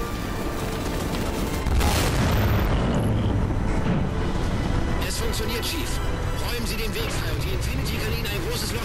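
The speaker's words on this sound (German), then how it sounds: "Explosionen." Booming explosions and bursts of gunfire in a dense, chaotic Halo 4 battle, loud and continuous, with a bigger blast rolling through near the two-second mark.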